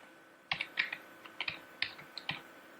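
A question is typed on a computer keyboard in a quiet room: about a dozen crisp, close key clicks tapped in irregular short bursts, with no voices.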